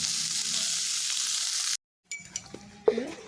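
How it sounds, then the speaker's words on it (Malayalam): Cooked chicken fries in hot sunflower oil in a pan, a steady close hiss that stops abruptly, followed after a short silence by quieter clinks and a brief tonal utensil scrape. "ഒരു പാൻ അടുപ്പത്ത് വെച്ച് സൺഫ്ലവർ ഓയിൽ ഒഴിച്ച് ചൂടാകുമ്പോൾ വേവിച്ച് വെച്ചിരിക്കുന്ന ചിക്കൻ ചേർത്തൊന്ന് വരട്ടിയെടുക്കണം."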